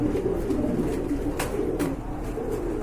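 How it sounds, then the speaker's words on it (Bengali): Beauty homer pigeons cooing in a loft, soft continuous throaty coos at close range under steady background noise, broken by a couple of short sharp knocks. "আরেক জোড়া বিউটি হোমা কবুতর দেখতে পাচ্ছেন"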